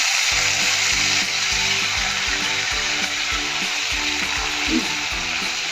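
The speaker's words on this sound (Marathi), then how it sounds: "छान अशी मस्त फोडणी तडतडली ना" Curry leaves crackle and spit in hot oil, a loud continuous sizzle over a low, rhythmically pulsing hum.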